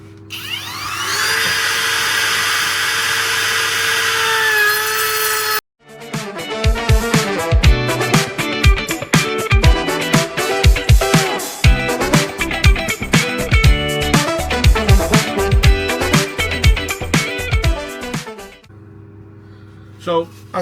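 A power tool rounds off the edges of a wooden beginner woodworking piece, a whining motor running first, then a stretch of loud, choppy cutting and grinding that bites in and out before the motor winds down.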